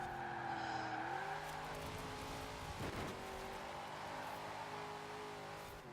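Track car engine screaming at maximum load in a racing game, a loud sustained roar with rising harmonic pitch and tire noise, a brief crash-like burst midway, continuous throughout.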